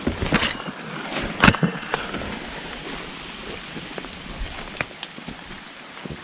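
Steady patter of rain in a jungle forest with scattered louder drops and splashes, a broad hiss filling the background outdoors, no voices.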